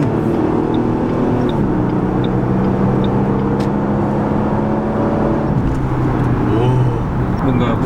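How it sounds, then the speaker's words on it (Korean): The exhaust of a 45th-anniversary Ford Mustang convertible rumbles deep and steady, with a few mild swells in revs. It is fairly loud and close, over some background noise. "배기음이 어느 정도 좀 우람한 소리가 나서"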